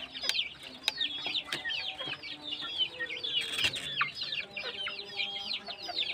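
Backyard free-range village chickens, young hens among them, cluck and chatter in a garden pen, several birds calling in quick overlapping bursts with light rustling nearby.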